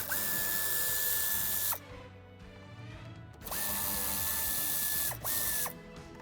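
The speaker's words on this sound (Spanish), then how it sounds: "Retiraremos los tornillos que sujetan esta parte inferior." A power screwdriver removes screws from the fuse box trim panel of a 2020 Audi A3 Sportback (8V/8Y), whirring loudly and close in two long runs with a brief third burst, separated by quieter pauses.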